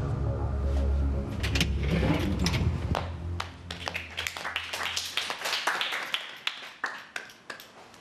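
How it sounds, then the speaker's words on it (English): Housemates in the Big Brother Australia house applauding, a burst of clapping that starts dense and then thins to scattered individual claps, close and fairly loud above a low hum. "You don't need to applaud every time"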